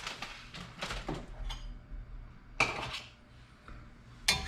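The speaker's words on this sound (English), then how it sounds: "Cast iron pan out now." A cast iron pan is pulled out in a kitchen while making broccoli cheese casserole, with a few sharp metallic clanks and knocks of cookware, close and fairly loud, spread between quieter rattles.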